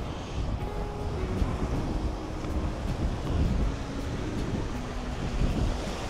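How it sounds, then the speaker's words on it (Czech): Steady wind roars across the microphone on the ocean shore at Câmara de Lobos, Madeira, with a broad rumble of surf beneath, continuous and loud with no voices. "tady na kraji toho oceánu teďkom fouká"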